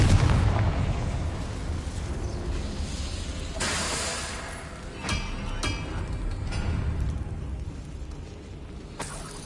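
Explosive blasts from the Confringo fire spell in the video game Hogwarts Legacy, a loud rumbling burst followed by several sharper bangs and a fading roar.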